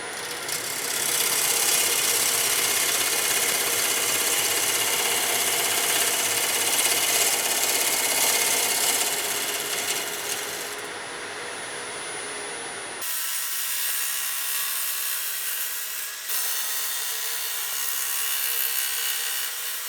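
A beaver cutter shaving wood on a lathe while turning a flat vase into a bowl, a loud continuous rough scraping that changes tone partway, then steadier, quieter cutting with a short break.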